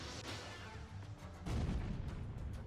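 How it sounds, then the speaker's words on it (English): Rasen Ringu explosion in the Blade and Sorcery VR game: a dense, roaring burst of crashing noise that swells and booms loudly halfway through, sustained to the end with no talk. "it does that explosion"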